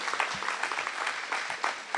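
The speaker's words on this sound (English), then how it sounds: "Go ahead and clap" Steady applause from an audience at a county fair distinguished citizen award ceremony, a dense wash of clapping that rises and falls with a few louder bursts, no voices above it.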